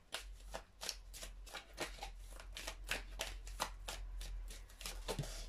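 Tarot cards being shuffled close up in a steady run of crisp riffling flicks and slaps over several seconds, with faint room hum underneath.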